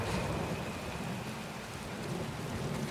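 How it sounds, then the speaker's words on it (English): Night rain in the video game Days Gone pours as a dense, even hiss of rainfall with a low rumbling underneath, steady throughout and with no voices. "it's raining"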